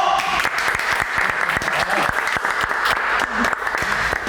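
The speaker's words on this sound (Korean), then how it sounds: "박수 주세요!" Studio audience applause on a Korean talk show featuring new athletes, brisk crisp clapping sustained for several seconds at close range.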